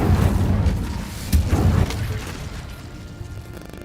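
Incendio fire spell cast in Hogwarts Legacy, a booming whoosh of flame with a sharp burst near the middle, loud and layered over rumbling game sounds.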